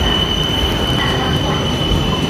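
A train sits at a station in Bangkok, with a steady loud rumble and a thin high whine or squeal running through it, close and continuous and with no voices.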